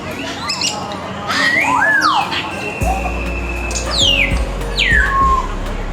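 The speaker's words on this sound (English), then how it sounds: "Oh, and here we see a pair of sulphur crested cockatoo as well." Cockatoos and grey parrots call at a zoo aviary, giving several loud swooping whistles and chirps that stand out over a steady crowd murmur and low background rumble.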